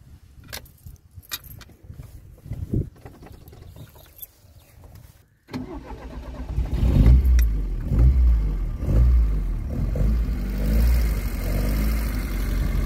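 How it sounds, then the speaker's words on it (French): A restored Fiat 124 with cleaned and tuned carburettors cranks after a few quiet clicks and rattles, then fires up and settles into a loud, throaty idle with several revs rising and falling close by. "Et donc là, nous allons la démarrer."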